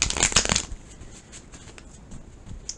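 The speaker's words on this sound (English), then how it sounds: "Alright guys, one more shuffle." A deck of playing cards is riffled in a quick, close burst at the start, followed by a few lighter card flicks and handling sounds, with no talking.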